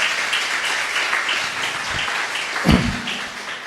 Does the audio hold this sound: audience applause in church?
yes